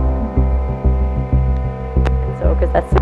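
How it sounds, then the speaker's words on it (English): A sewing machine runs up close, a loud low mechanical hum with a steady throbbing stitch rhythm and a few brief sharp clicks, with no voices. "So I'm going to take this to the sewing machine and sew it here."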